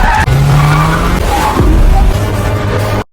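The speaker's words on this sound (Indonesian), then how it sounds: "Saat mobil Yunju dikepung, dia meminta Marco untuk pegangan yang kuat." Car tires squeal and skid loudly during a chase scene in a film, with engine roar underneath. Close and intense, the sound runs continuously for about three seconds before cutting off abruptly.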